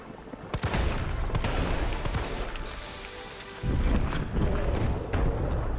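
Loud, dense gunfire in the Resident Evil 3 (2020) final boss fight against Nemesis, with rapid bursts of shots and booming impacts that continue throughout, and no talking.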